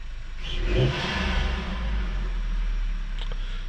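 A cold car engine with a DSG DQ200 gearbox idles low, then gives a brief, gentle rev before settling back, heard close by with no talking.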